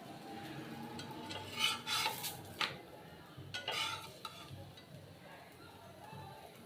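Rotis being fried in a pan, with soft sizzling and several sharp scraping stirs or flips in short bursts over low background noise.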